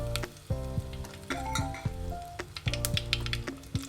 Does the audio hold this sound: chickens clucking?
no